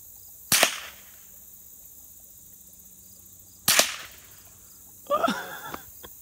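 Three sharp rifle shots ring out at spaced intervals while hunting a bullfrog outdoors, each a loud crack with a short decay, the last followed by a quick clatter.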